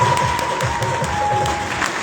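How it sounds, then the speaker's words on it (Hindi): An audience at a business seminar applauds, a dense steady clatter of many hands clapping at moderate distance, with a faint tone lingering underneath. "अपने लिए एक बार जोरदार ताली बजाकर उसका स्वागत"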